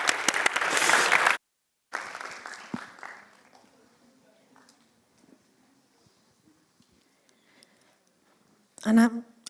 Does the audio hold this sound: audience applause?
yes